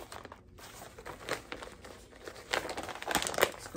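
Plastic packaging for a wig is crinkled and opened close by, giving irregular bursts of crackling that grow busier and louder toward the end, with no talking.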